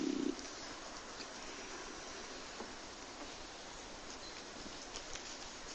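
Steady light rain falls in a soft, even hiss, faint and unbroken throughout with no voices.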